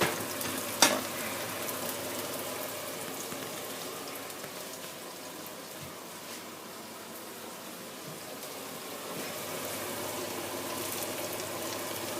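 Onions frying in a pan as part of a vegetable samosa filling, a steady, low crackling sizzle that holds for a long stretch, with one sharp clink near the start and no voices.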